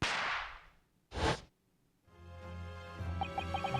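A video game effect for a Venus special firecracker: a hiss, then a sharp loud bang like a gunshot. A ringing tonal tail follows, fairly faint overall.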